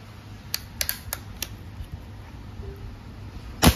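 A Crosman 2240 bolt-action single-shot airgun is dry-fired with no pellet loaded to break it in, producing sharp, close mechanical clicks and clacks of bolt handling, ending in a louder snap.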